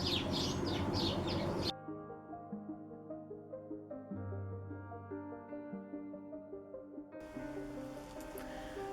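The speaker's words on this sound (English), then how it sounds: "There's all the little tree sparrows." Tree sparrows twitter in quick bursts at the start and end, and a steady tonal, music-like passage fills the stretch between them.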